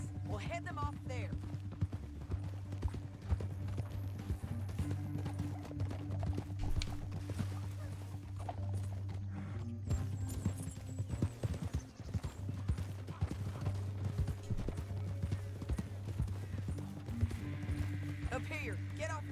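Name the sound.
horse hooves galloping, from video game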